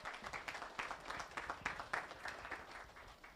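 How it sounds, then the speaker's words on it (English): A banquet crowd at a racing speedway claps for a just-married couple, a dense patter of hands that rises and falls in loose waves, moderately loud and close, with a few faint voices mixed in. "Let's give them a round of applause"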